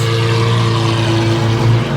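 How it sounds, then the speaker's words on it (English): A Lamborghini Aventador SVJ engine roars loudly and steadily close by at a car show, a continuous deep, throaty rumble with strong low tones and no voices. "These SVJs sound absolutely ridiculous."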